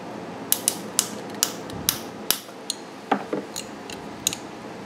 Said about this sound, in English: So we're going to go ahead and tighten down this hose clamp.